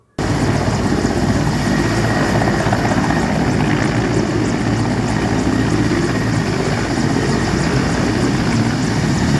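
An Indian Army helicopter landing at a police line helipad, its rotor and engine roar steady, loud and close throughout, with no talk.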